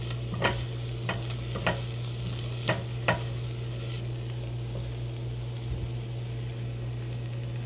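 Chopped onions cook in oil in a pan for beef chili, giving a steady, even hiss of frying with a few light utensil taps and a low background hum, no voices.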